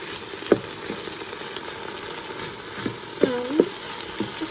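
A sliced onion sizzles steadily in a Ninja Foodi pot while a utensil stirs it, with a few soft scrapes and knocks against the pot over the constant frying hiss.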